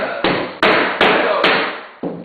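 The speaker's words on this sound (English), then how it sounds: "just hammering in our nails to the hardwood floor" Nails are hammered into a red oak hardwood floor, 2 1/4 inches thick. Five sharp, close hammer blows land in an uneven rhythm, each ringing briefly before the next.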